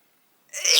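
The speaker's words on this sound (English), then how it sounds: "now that I've sneezed" A single sneeze bursts in abruptly after a stretch of silence, loud and close, breaking off mid-conversation during a spoken book discussion.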